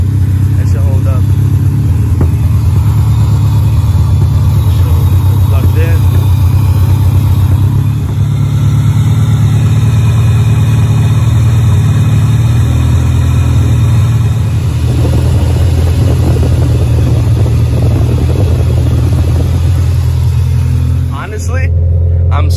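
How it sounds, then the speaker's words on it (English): A car engine idles steadily and loudly up close after fuel leak and overheating repairs, a constant low rumble lasting throughout while a person talks over it. "The car is idling fine, the fans turn on"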